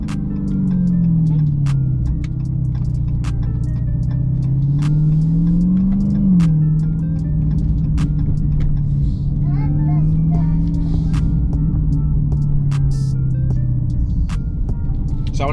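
A 2020 supercharged car fitted with a Legmaker intake revs close by, its engine droning with a sustained whine that climbs and falls with the throttle while people talk over it.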